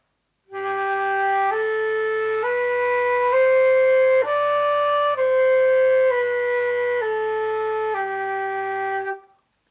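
A flute steps through a slow scale, note by note, while a sung G is held underneath, producing a buzzy, layered tone that is close and steady.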